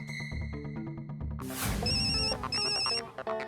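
A phone ringtone plays loudly, a melodic electronic tune that starts, then swells into a denser, brighter ringing pattern that continues to the end.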